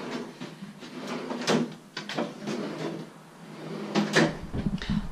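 Several wooden knocks and thuds as cupboard doors and drawers are opened and shut close by, in quick, irregular succession.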